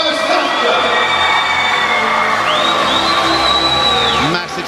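A home crowd at a Singapore swimming race cheers steadily throughout, a dense roar with rising whoops and shouts, while a commentator's voice runs underneath.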